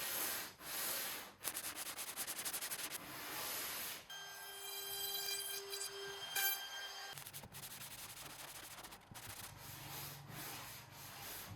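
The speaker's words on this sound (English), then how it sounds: "I'll be using a long board, at least that long, so I don't get any bumpy bits" Long rasping strokes of a long sanding board across a 25ft Bertram boat hull, repeated steadily with brief pauses between passes.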